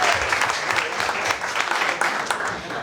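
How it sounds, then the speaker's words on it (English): An event audience applauding, dense continuous clapping from a large crowd that holds steady throughout, loud and fairly close. "we can give a round of applause for that."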